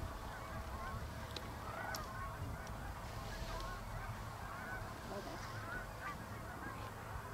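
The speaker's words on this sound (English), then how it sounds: "There's a couple of cranes in among all those geese flying." Geese flying overhead with a couple of cranes among them give a distant, faint chorus of scattered honks and calls over a steady wind-like background.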